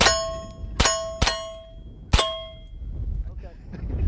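Three sharp pistol carbine shots, each striking a steel target that rings with a bright, sustained metallic tone. They come in an irregular rhythm a fraction of a second apart, close and loud, followed by low background rumble.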